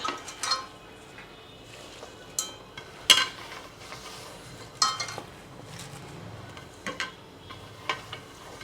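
A pot clunks and clatters as it is set into a rice cooker, with a few sharp metallic knocks spread among quiet kitchen handling noises.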